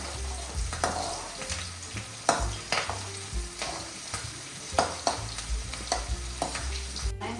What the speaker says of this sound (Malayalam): പച്ചമുളക് 4 എണ്ണം എണ്ണയിൽ അങ്ങ് വാടി പച്ചപ്പ് മാറും അല്ലേ?